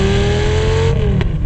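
A 2004 Lamborghini Gallardo V10 with a gated manual revs hard and loud toward its high redline, a rising snarl that drops off as the throttle is released.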